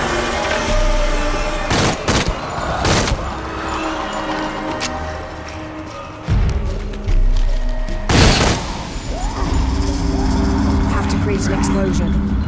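Shadow of the Tomb Raider on PS5: loud booming blasts and crashing bursts go off in the game amid dense rumbling action noise, with several sharp impacts standing out.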